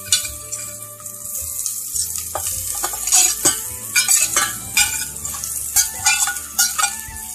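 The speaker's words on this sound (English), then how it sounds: "now we're going to go ahead and add the hamburger meat to this" Hamburger meat drops into a pan of lightly sweated frying onions for a cabbage casserole, bringing a steady sizzle with repeated scraping stirs and utensil clinks against the pan, close and fairly loud with no talking.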